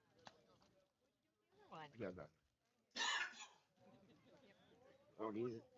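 A few rough coughs break up nearby speech at a live high school baseball game, with one harsh burst standing out among quieter vocal sounds.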